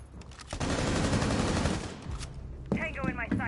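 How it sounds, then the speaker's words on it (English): Rapid bursts of automatic gunfire in the Rainbow Six Siege video game, a sustained loud volley for over a second followed by a few sharper shots near the end, mixed with game effects. "They're shooting from up top, y'all."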